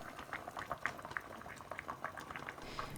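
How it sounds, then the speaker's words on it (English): Beef fat renders in a saucepan set inside a pan of water, giving a steady, fairly quiet bubbling and popping with scattered small crackles throughout. "On the top we've got the fat rendering down."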